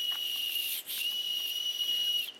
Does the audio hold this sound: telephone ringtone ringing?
no